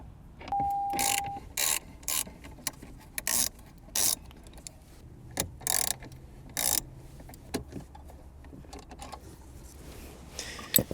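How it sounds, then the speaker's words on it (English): A ratchet wrench clicks in short repeated bursts, close and crisp, separated by pauses and small clunks while bolts holding a car subwoofer are worked loose. "And then for the top ones, we will use a wrench."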